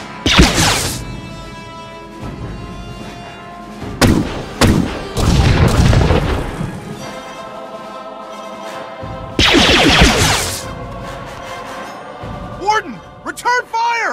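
Blaster gunfire and explosions in Star Wars: The Old Republic, with loud broadband bursts near the start, a cluster of sharp shots around the middle and a long blast later, separated by quieter stretches with voices and game music.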